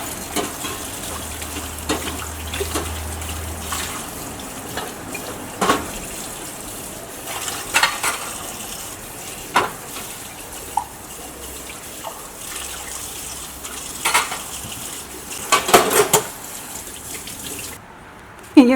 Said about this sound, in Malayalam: ഇനി അപ്പോൾ ഞാൻ പാത്രങ്ങളൊക്കെ ഒന്ന് കഴുകട്ടെ കേട്ടോ